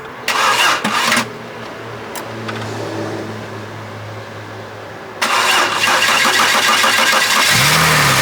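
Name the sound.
American camper van engine starting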